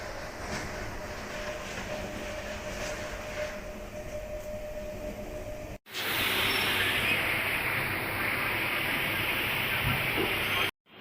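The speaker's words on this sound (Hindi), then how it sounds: "कोई सामने से अगर गुजरती है डाउन लाइन सी ट्रेन तो आप देख सकते हैं" Train on the down line rushing past a guard coach of the Chhapra-Sonpur MEMU, a loud steady roar and rumble that abruptly swells and stays close for several seconds, preceded by a quieter running hum.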